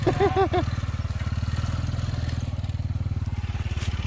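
Motorcycle ridden along a hill-country track, its engine putting out a steady low rhythmic chug throughout, close and fairly loud, with brief voices over it near the start.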